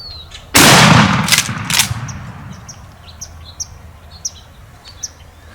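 A single loud gunshot from a hunting rifle cracks near and sharp, then rings out and fades over a second or two, followed by scattered faint bird chirps in an otherwise quiet outdoor setting.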